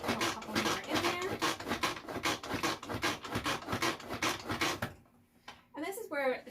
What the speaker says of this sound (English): couple more pumps in there so it's all nicely finely chopped in there